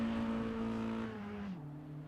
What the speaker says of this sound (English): Hess now going to take his turn, and he's going to do burnout.